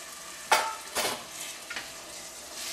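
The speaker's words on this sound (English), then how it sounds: "what I'm gonna do is add the chickpeas in" Chickpeas tumble into a pan of Indian chickpea curry: a couple of soft splashy thuds followed by brief stirring and a light sizzle, close and fairly quiet, with no talking.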